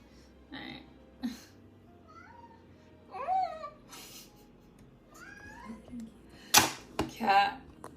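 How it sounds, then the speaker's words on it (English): Domestic cat meowing several times indoors, short rising and falling calls spaced across the stretch, fairly near, with soft thumps and a couple of sharper noises near the end. "Cat."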